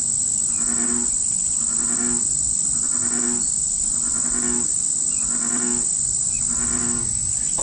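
A frog in a marsh gives a steady series of rhythmic, croaking pulses about once a second, under a constant high insect drone.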